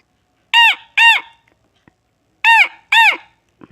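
A man imitates a parrot with his mouth, a voice mimicking the bird in four loud, harsh squawks delivered in two quick pairs separated by a short silence.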